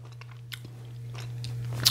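A bite into a crunchy, buttered sourdough English muffin gives a few close, crisp crunches over a low steady hum, with no talking.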